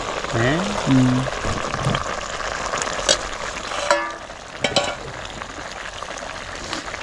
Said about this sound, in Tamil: வேறு லெவலில் கொதிச்சுக்கிட்டு இருக்கு குழம்பு